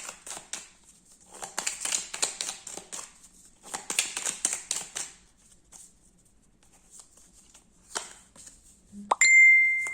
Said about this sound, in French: j'ai mon téléphone qui sonne